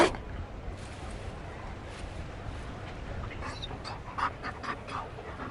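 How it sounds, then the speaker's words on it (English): Mabari war dog from Dragon Age Inquisition panting quickly and steadily at close range, breathy rhythmic huffs over game ambience, with a few brighter yips toward the end. "You found a dog?"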